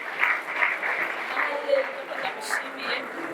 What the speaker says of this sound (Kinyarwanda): Mufashe twikomera amashyi menshi cyane